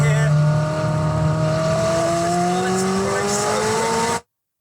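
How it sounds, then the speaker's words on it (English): A McLaren sports car engine roars loudly and steadily, its pitch climbing as it accelerates, then cuts off abruptly. "It is a McLaren"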